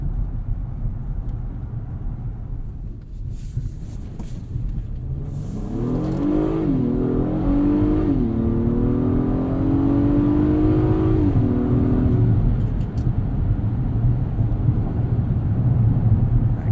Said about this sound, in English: Put into sport transmission mode.